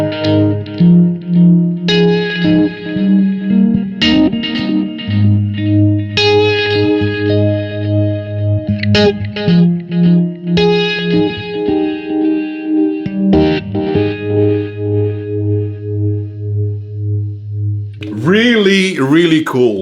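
Electric guitar run through a Blackstar ID:Core V4 amp with a multiple delay effect, sustained notes and chords ringing out with repeating echoes, and a voice breaking in briefly at the end.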